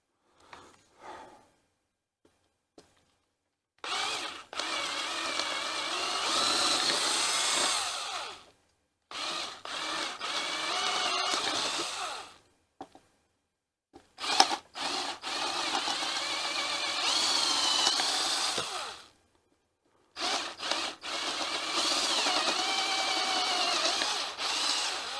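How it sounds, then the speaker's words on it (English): Power drill boring holes into a control panel, bursts of high whining drilling separated by short silent pauses, loud and close, repeated about five times. "let's start drilling all these."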